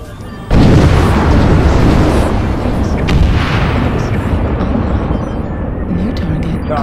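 A loud missile blast in a video game erupts at once, then rolls on as a dense, rumbling roar that slowly fades over several seconds.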